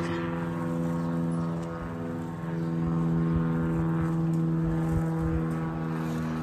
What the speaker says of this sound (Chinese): 上面飞机嗡隆嗡隆的。